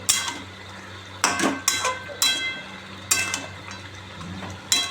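Meat is stirred and sautéed in a pan, and a metal spoon strikes and scrapes the pan in about six sharp, uneven clanks over a low, steady background hiss.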